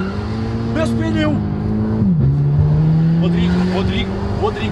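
A turbocharged Volkswagen Jetta engine revs steadily, its pitch rising, dropping sharply, then holding at a higher drone, with people talking over it.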